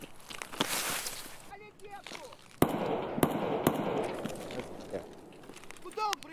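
Sharp gunshots from an SVD sniper rifle in the shooter game Escape from Tarkov: a few loud, isolated cracks spaced out over a busy battle backdrop, with another player's voice talking in between.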